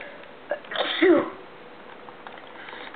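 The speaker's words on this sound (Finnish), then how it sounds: "Aivastus." A single sneeze comes fairly close, a sharp in-breath rising into one loud burst, with a quiet background before and after.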